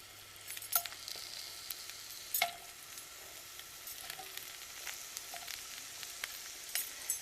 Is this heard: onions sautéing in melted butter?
yes